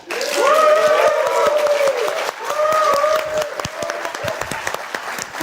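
An audience at the Snapdragon Summit 2024 tech event applauds loudly and steadily, dense clapping rising and holding, then thinning toward the end, with a voice booming over it.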